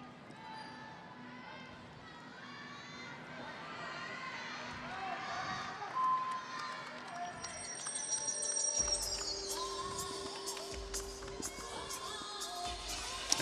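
A crowd murmurs and swells steadily inside the arena at the 2021 U.S. Gymnastics Championships women's competition. The rumble of many voices builds into a broad roar, with a commentator talking over it.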